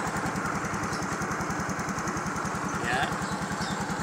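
A Yamaha automatic scooter engine idles steadily after a piston ring replacement, its close, even putter running throughout with a faint voice briefly over it.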